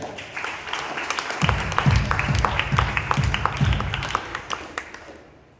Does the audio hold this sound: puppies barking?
no